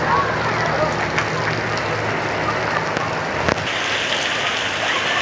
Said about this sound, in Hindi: आप देख सकते हैं बहुत ज़्यादा बारिश हो रही है।